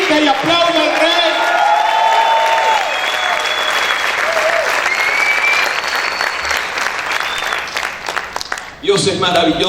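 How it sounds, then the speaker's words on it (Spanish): Church congregation clapping hard and shouting to the King, sustained loud applause mixed with whoops and cries, voices talking over it, ending in a brief lull before speech resumes. "Grita y aplaude al Rey."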